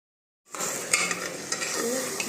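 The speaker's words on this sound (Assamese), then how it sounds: "এনেদৰেই মই লেগ পিচ দুটা 10 মিনিটৰ বাবে লৰাই থাকিম" After a brief silence, two chicken leg pieces frying in a wide cooker pot for biryani start to sizzle loudly, with spoon scrapes and metallic clinks as they are stirred close up.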